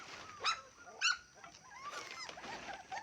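Puppies at a farmhouse by a coconut grove, giving high, thin yelps and whimpers in short bursts, two sharper cries early, then softer overlapping whines close by.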